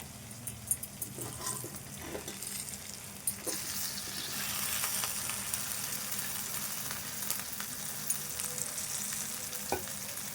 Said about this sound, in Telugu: ఉల్లిపాయ వేగింది ఇప్పుడు ఈ బెండకాయ ముక్కలు వేసుకుందాము